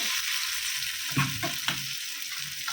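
Food frying in a pan with boiled dal nearby, a continuous bright sizzle throughout with a few soft stirring knocks in the middle, close and steady with no voices.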